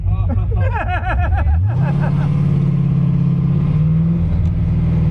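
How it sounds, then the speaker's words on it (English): A Porsche 944 runs on an autocross course, its engine settling into a loud, steady drone with a slight rise in pitch, while voices chatter over the start. "we just went for a ride in this super cool 944"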